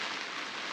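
Heavy rain pounds down steadily at a lakeside fishing match, a dense, even hiss of drops drumming on surfaces and an umbrella, continuous and loud throughout with no pauses.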